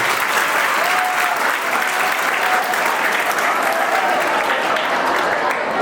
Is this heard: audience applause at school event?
yes